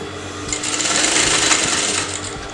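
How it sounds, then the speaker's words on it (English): A sewing machine stitches canvas fabric along a neckline in one continuous run of fast, even needle chatter, close and loud, easing off at the end. "just put the needle, turn the fabric, and you're going to sew that again"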